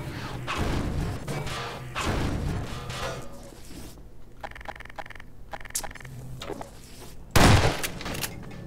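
Half-Life 2's gravity gun fires in a burst of crashing, clattering impacts and thuds within game action, a sharp loud blast near the end standing out over the busy background.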